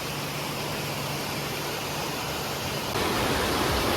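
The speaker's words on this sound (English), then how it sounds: "there's a waterfall up top" A waterfall pours down at Table Rock in New Hampshire, a dense, steady roar with no pauses that gets slightly louder near the end, close and alone without voices.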